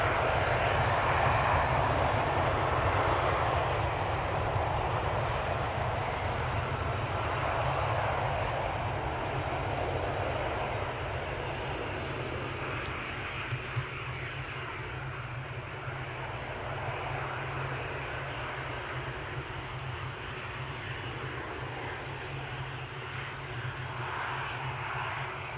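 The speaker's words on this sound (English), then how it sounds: "All right, takeoff time." A passenger jet takes off at Amsterdam Schiphol airport, its engines a loud, broad roar that slowly fades as it climbs away. Heard from the ground, with no talk.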